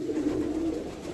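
Filo pigeons, an ornamental domestic breed in patterned and olive colourings, give a soft low coo up close, one continuous murmuring call with no voices over it.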